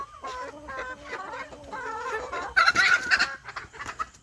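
Native chickens kept as breeders clucking in cages at a backyard range house, several birds giving overlapping nasal clucks and cackles nearby, rising into a louder squawking burst.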